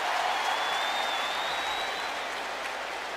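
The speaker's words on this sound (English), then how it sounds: "You can hear the crowd react as the Chiefs try and get a quick snap off and couldn't do it." A football stadium crowd at a Chiefs at Texans game in 2010 roars and claps in a broad, sustained wash of noise that fades slightly toward the end.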